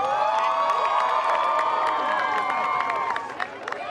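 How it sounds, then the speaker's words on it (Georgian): A crowd at an outdoor park opening cheers and applauds steadily, with shouts and whoops riding over continuous clapping that eases off near the end. "ხურვალი აპლოდისმენტები მიუძღვნათ"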